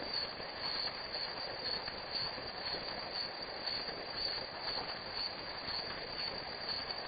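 Train rolling through a rail yard beside a ballpark, a steady, continuous rumble with metallic wheel squeal and hiss running throughout, fairly distant and even in level.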